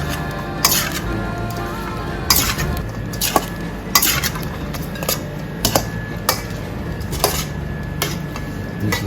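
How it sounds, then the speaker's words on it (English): Salad being tossed with a garlic and thyme dressing in a bowl, giving steady clinks and scrapes of utensils against the dish with sharper knocks scattered through, close by. "Give that a good mix up."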